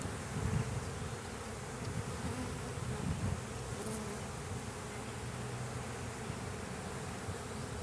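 Honeybees packed tightly into a crowded hive give off a dense, continuous buzzing hum, close and steady, with a few brief louder flurries early on.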